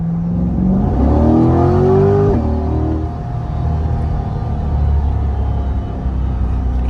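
A C8 Corvette Stingray convertible's mid-mounted engine revs hard once, rising quickly in pitch to a peak, then falling back and settling to a steady, close rumbling idle, loud and alone with no talk.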